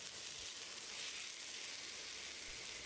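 King fish coated in masala fries on a hot pan, a steady soft sizzle and hiss that runs unbroken and fairly quiet throughout.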